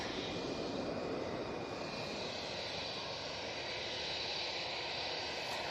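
British Airways shuttle plane taxiing at Manchester Airport, a steady far-off roar of jet engines with a faint whine on top, even and unbroken throughout.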